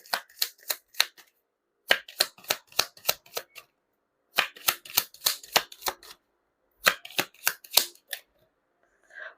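Tarot cards shuffled by hand in quick rhythmic bursts of sharp, crisp snaps, three runs separated by brief pauses, close and clear with no voice.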